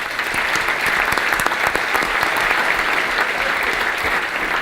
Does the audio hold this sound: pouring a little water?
no